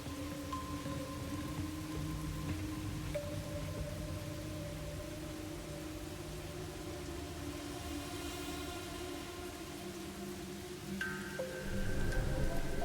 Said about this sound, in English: Oh, that's what's causing the rain.